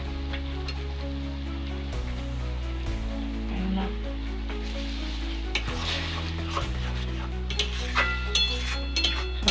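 Chopped banana stem with mustard paste fries in a pan, a soft continuous sizzle with occasional clicks and scrapes of stirring, moderately close, under a steady low hum.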